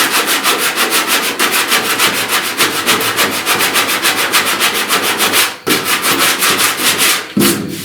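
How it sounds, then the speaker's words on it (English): Close, continuous rhythmic sanding of epoxy primer over a dent repair on a truck cab corner, a loud steady scratching rasp with brief pauses near the end. "you're going to sand through your primer"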